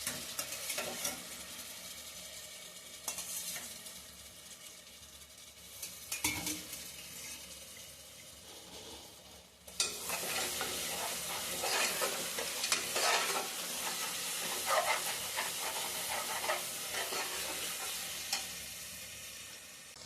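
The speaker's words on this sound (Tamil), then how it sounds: "நம்ம வேக வச்ச மட்டனை நம்ம கொஞ்சம் கொஞ்சமாக எடுத்து நம்ம அதில் ஆட் பண்ணி அதை நல்லா கிளறி விட்டுக்கலாம்" Cooked mutton is stirred into mutton biryani in a pan at home, with continuous scraping, clinking and sizzling of utensil against the pan, growing busier and louder halfway through.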